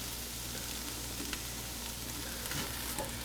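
Half a cup of flour cooking in bacon fat for a roux, giving a continuous dense sizzle and frying hiss with faint stirring throughout, steady and close, without speech.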